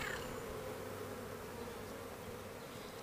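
A cast swarm of honey bees fans scent from their glands at a new home, making a steady, dense, close buzz that holds evenly throughout with no voices.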